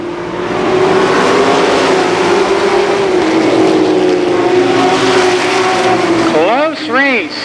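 Race cars roar around the Columbus Motor Speedway oval at a close 1990 feature finish, engines droning loud and steady under a crowd and announcer's voice, with two quick Doppler passes sweeping by near the end.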